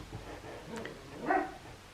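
Dogs in a home bark and yip briefly while gardeners are working nearby, a few short muffled barks at moderate distance with no talking.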